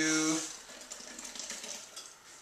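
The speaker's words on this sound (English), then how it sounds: "You just want to mix it up a little bit." Kimchi paste is worked into vegetables by hand, giving a soft, wet, squelching rustle at low volume after a brief voiced tone at the start.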